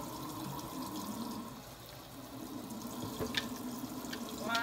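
Tap water runs steadily into a kitchen sink while food is rinsed for homemade cheeseburgers, a continuous close wash with a few small splashes and clinks near the end.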